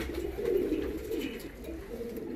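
Black Malwai pigeons cooing in a low, continuous murmur with soft overlapping calls, close by, with no talking.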